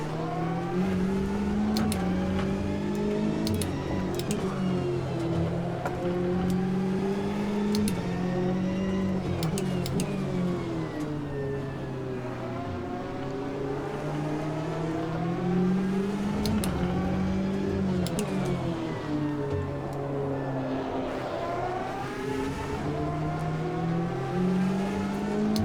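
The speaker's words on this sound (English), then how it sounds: "the Corvette definitely doesn't sound as good as the Porsche." Corvette race car engine in the racing sim Automobilista 2, revving up and down through repeated gear changes with rising and falling pitch sweeps, steady and fairly loud for the whole stretch with no voices.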